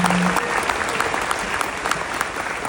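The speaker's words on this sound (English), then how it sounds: "Let's please give Martin a huge round of applause" Loud, sustained applause from a large crowd, dense clapping with occasional cheers, continuing steadily throughout.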